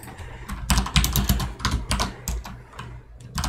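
Computer keyboard typing a command, a quick run of close, crisp key clicks in short irregular bursts with no talk.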